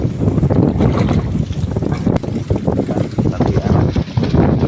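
Strong wind buffets the microphone in a constant, loud roar with low rumbling gusts, no voices.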